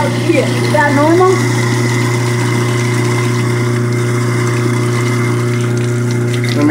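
Water runs out of household plumbing with a steady mechanical pump-like hum underneath, a continuous low drone; a voice briefly speaks near the start.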